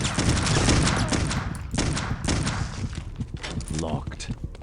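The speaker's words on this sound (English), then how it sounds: "Gunfight." Gunfire in the horror shooter Clive Barker's Undying, a rapid loud fusillade of shots with thuds, dense and close, fading into scattered bursts with a voice speaking near the end.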